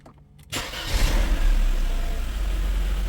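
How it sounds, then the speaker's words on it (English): A Mercedes car engine cranks and catches, then settles into a steady, loud low rumble of running, heard up close with no talk. "let's run the engine"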